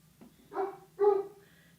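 A dog barks twice in quick succession, sharp and moderately close, in a quiet indoor room.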